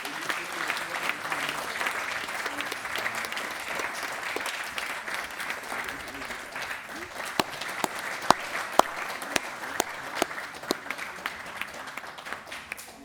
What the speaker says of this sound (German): Und dann schenkt nochmal einen großen Applaus.